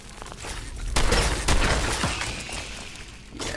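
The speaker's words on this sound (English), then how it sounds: "Oh, a shotgun will work perfect in here." Shotgun blasts in Fallout 4, two loud sharp booms about half a second apart, a fainter report near the end, over a busy game ambience.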